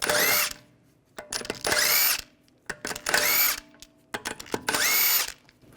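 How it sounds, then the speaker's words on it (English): A power drill with a 17mm socket spins lug bolts off the rear wheel of a 2009-2017 Volkswagen Tiguan, in four loud whirring bursts separated by short pauses and small metallic clicks. "Using a 17mm socket, take the lug bolts out."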